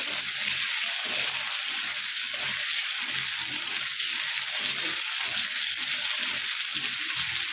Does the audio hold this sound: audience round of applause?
no